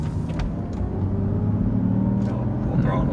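A twin-turbo V12 Mercedes S600 drives with a low, steady engine rumble from inside the cabin, and a few faint clicks and knocks sound over it.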